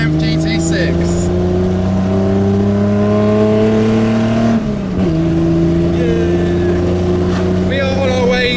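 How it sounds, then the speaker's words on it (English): Loud Triumph GT6 sports car on the road: a droning engine with strong harmonic tones that climb gradually, dip at a gear change, then settle into steady cruising, all heard from inside the car. "welcome to a very loud Triumph GT6"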